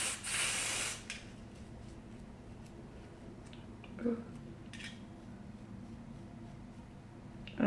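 A short burst of hair spray hisses onto a lace wig at the start, followed by quiet handling noises and faint rustling.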